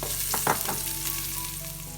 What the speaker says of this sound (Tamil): இது கொஞ்சம் ஃப்ரை ஆகட்டும்.